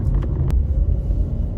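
A VW Golf 6 with a 1.6 TDI engine drives along, its steady, loud low engine rumble and road noise filling the cabin without a break.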